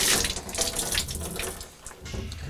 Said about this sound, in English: we're just going to give it a good rinse with hot water